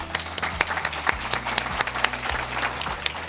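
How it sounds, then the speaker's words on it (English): A crowd applauds with steady, dense clapping that continues throughout. "ask everyone to give our young leaders a round of applause"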